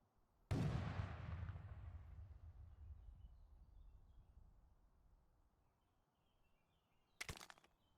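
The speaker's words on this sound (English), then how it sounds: "Throw grenades through the openings in the building to clear it" A loud grenade explosion bursts close by and rolls off into a long fading rumble, then a second sharper blast comes near the end, in the tactical shooter Thunder Tier One.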